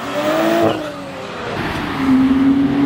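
Cars racing at a car meet, a brief close engine roar with a rising and falling revving tone, loud against background noise.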